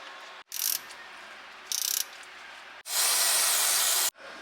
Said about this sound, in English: put the plug back in and tighten that up